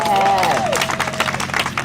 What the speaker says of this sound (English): Just Director Mason Evans, just give me a round of applause.